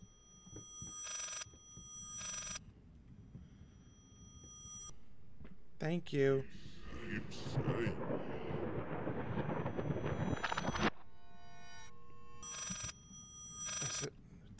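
A bell-like telephone rings in the horror game Layers of Fear, several bursts spread across the stretch. A louder noisy rumble swells in the middle, and someone speaks briefly.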